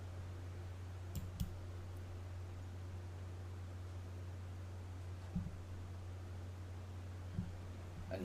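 A computer mouse gives a few sharp, close clicks, spaced out over a steady background hum.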